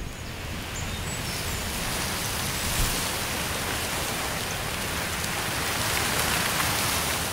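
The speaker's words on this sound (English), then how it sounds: "the clouds pour rain onto the swampy land" Steady heavy rain pours onto swampy Dutch land in midday darkness, a continuous dense hiss of falling water across the whole stretch with no voices.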